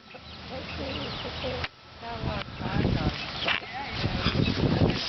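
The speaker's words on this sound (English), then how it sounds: "There's a rooster." A rooster and chickens in a hen house, with a hawk nearby, give scattered clucks and calls under people talking, growing busier and louder toward the end.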